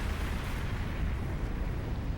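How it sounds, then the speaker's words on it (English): A nuclear blast in the video game Ninja Gaiden Sigma 2 roars as one continuous, dense, loud rumble. It holds a steady level for the whole stretch, with no pauses. "into a nuclear explosion"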